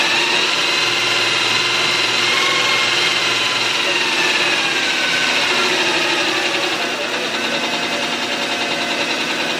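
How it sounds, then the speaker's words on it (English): A Mikron F75 milling machine runs continuously at roughly 1,000 RPM, giving a loud, steady mechanical hum and whine with a slight shift in tone partway through, heard close up and without interruption. "I'll switch it on so it can be running. They are a little noisy, these machines."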